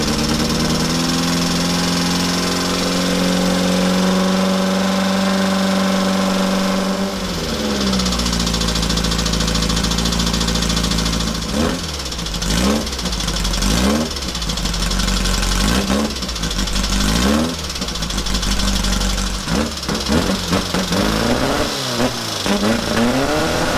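A tiny diesel engine cranks, catches and settles into a steady, loud, close idle, with rhythmic knocking pulses and a few throttle blips toward the end, with no talking.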